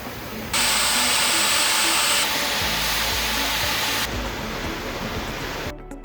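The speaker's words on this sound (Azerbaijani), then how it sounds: "Ondan sonra buxarın verilməsi başlayır." Steam fed under pressure into a railway tank wagon at a washing and steaming station, a loud steady roaring hiss that starts abruptly and holds for several seconds before easing off.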